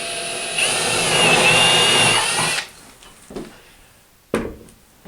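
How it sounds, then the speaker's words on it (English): A power drill bores a second hole into drywall with a loud, steady whine lasting about two seconds, followed by a few soft handling knocks and a sharp clunk. "Drill the other one over here"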